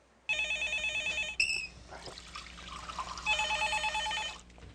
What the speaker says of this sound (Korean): 며칠 후 반가운 전화가 걸려왔다.